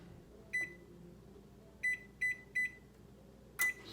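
An oven control panel beeps as the preheat temperature is keyed in for baked potatoes: five short, clear electronic beeps, one single and then a quick run of three, with a final louder beep, over a quiet room.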